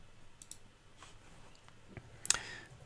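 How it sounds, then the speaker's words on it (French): A computer mouse clicks on a link, giving a few sharp, quiet clicks spread over a couple of seconds, close and isolated with no talking. "Je clique sur le premier lien proposé."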